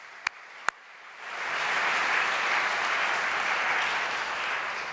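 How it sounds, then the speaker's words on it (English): An audience applauds at a Socrates in the City event for Eric. A couple of sharp claps come first, then the crowd's clapping swells into sustained, fairly loud applause. "Can we have a round of applause for Eric and everything he does here at Socrates in the City?"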